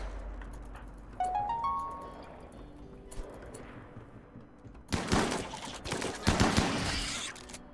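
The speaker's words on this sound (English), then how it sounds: "So I'm going to plug in my uranium turret here." A uranium turret fires at bugs in RimWorld: bursts of rapid gunfire crackle in clusters, with a sharper, denser volley in the second half. Smaller game clicks and thuds come between the bursts, and no one talks.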